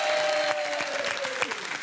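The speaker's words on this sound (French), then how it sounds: "Le temps d'applaudir Maxime et Manon." Studio audience applauding on a French dating game show, steady dense clapping filling the clip with a faint tonal hum underneath.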